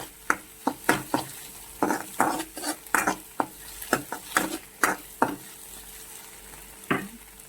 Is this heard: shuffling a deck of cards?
no